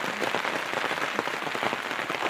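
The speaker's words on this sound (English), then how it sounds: "it's still raining. It's been raining since Friday" Steady rain falls at a bush campsite, a dense, continuous patter of drops close by with no breaks and no voices over it.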